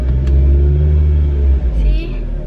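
A car engine stuck in high revs gives a loud, steady droning rumble that dips briefly once and then picks up again. A voice talks over it.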